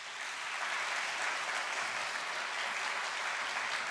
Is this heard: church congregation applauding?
yes